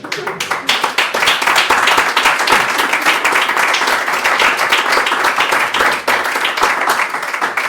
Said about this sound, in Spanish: Ahora lo suyo sería que aplaudieran